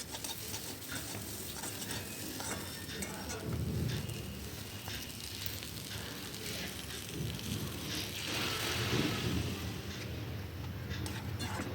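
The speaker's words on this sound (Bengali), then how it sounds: "জল দিয়ে দিয়েছি, ভালো করে নেড়ে চেড়ে এটাকে ঢেকে দেবো" Potatoes and vegetable stalks fry in a pan with a little water added, producing a dense, even sizzle like light rain, with soft stirring scrapes throughout and no distinct voices.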